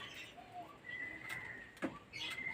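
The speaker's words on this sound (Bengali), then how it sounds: "এ পায়রা পুরো অ্যাডাল্ট পায়রা" Adult pigeons coo softly and intermittently at a low level, with a faint steady background and one brief sharp knock near the middle.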